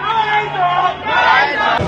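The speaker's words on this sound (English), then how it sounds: "there's a big crowd of people outside" A big crowd of people gathered outside a shop in London, a loud, close murmur of many voices talking and calling at once, continuous throughout.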